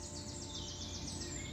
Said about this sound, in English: You just look around you and you hear the birds.